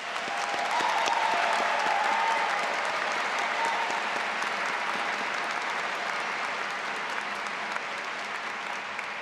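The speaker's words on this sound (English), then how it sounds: "Let's give a round of applause to the class of 2025." A graduation ceremony crowd gives sustained, even applause to the graduating MBA class of 2025, a dense continuous wash of clapping with a few faint cheers early on, steady throughout.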